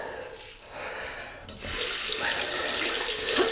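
A tap runs into a sink during wet shaving, first a softer stream, then gushing louder and fuller after a brief pause, steady splashing water up close without talk.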